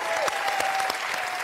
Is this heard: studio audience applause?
yes